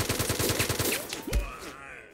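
Gunfire in the video game Mud and Blood: a rapid rhythmic burst of about eight shots, then a single heavier report that trails off.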